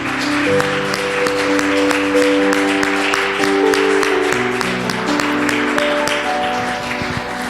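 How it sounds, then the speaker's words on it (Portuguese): A church congregation claps during a service, steady applause over sustained keyboard chords playing in the background. "Se você puder aplaudir o Senhor nesse momento."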